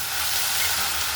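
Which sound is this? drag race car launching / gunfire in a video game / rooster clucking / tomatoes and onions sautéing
tomatoes and onions sautéing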